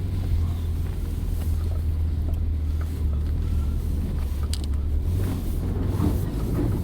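A Mini Countryman SUV with dynamic traction control on drives over slippery, rain-soaked grass, a loud steady low engine drone and rumble with faint wind and rustle, continuous throughout.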